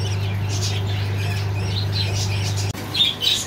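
Pet-shop budgerigars chirp in short bright bursts over a steady low hum, with a brief dropout in the middle and livelier calls toward the end.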